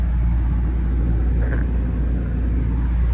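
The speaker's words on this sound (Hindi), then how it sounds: "गाड़ी मैंने स्टार्ट कर लिया" A car's engine idles after starting on an early-morning road trip from Jaipur to Gujarat, holding a steady, loud low rumble throughout with no voices.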